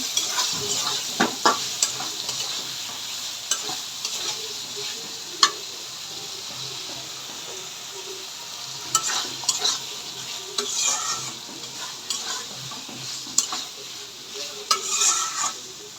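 Chopped tomatoes sizzle steadily in a pan for a quail egg curry, with repeated scraping and clinking strokes of a stirring utensil over a constant frying hiss, close and moderately loud with no talking.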